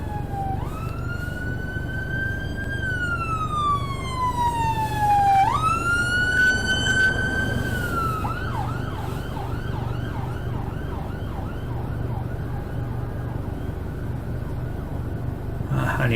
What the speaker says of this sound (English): why are your sirens behind me?